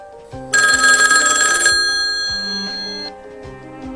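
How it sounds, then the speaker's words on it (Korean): A telephone bell rings loudly in a burst of bright, rapid trilling, then fades out; no voices. "띠리링 울리는 전화"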